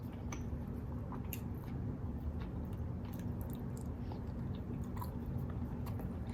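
Soft, close chewing and crunching of KFC food with KFC sauce, mac and cheese among it, goes on steadily with small bites and squishes over a low hum.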